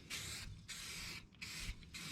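A handheld spray bottle squirts in quick repeated bursts, about five soft hissing sprays with short gaps between them, close by in a quiet room.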